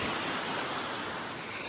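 Ocean waves washing onto a beach in Barcelona, a steady broadband roar of surf filling the whole stretch with constant loudness and a little wind rumble, no voices.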